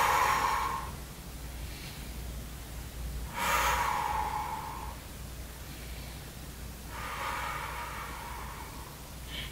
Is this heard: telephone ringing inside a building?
no